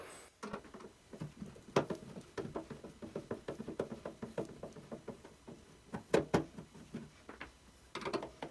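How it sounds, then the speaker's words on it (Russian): The combustion chamber cover of a BAXI ECO 4s gas boiler is opened, giving a quiet run of close metallic clicks, taps and rattles at an irregular pace, with a few sharper snaps standing out. "Открываем крышку камеры сгорания."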